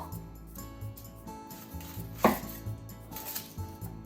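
An onion being sliced into very thin pieces with a slicing tool, giving a run of soft, close chopping taps with one sharper knock midway, no talking.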